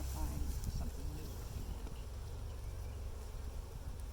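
Honey bees drone in a dense, unbroken buzz at an opened hive in Pilot Point, Texas, the close hum filling the air while faint human voices mix in underneath.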